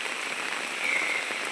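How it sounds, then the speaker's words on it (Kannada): Heavy monsoon rain pours down on a village, a steady, close patter of drops hammering surfaces at constant loudness, without voices. "ಈಗ ಇಡೀ ದಿನ ಸುರಿತಾ ಇದೆ ಮಳೆ."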